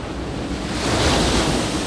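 Ocean waves surging and breaking on Shonan Hiratsuka beach, a broad continuous wash of surf mixed with wind buffeting the microphone, loud and close, with no talk.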